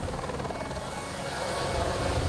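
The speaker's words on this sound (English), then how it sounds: "Philippe Delquier, firefighter in a water bomber helicopter, barely has time to join the pilot before they take off for airdrops on the fire" Firefighting water bomber helicopter taking off during the 2016 Marseille wildfires: a steady, throbbing rotor chop and engine whine, moderately loud and growing slightly stronger toward the end, with no voices.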